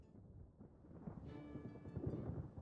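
Low rumbling thunder in the Pokémon Pokopia video game, a faint swelling roll that builds over a couple of seconds with a soft tonal game sound layered on top.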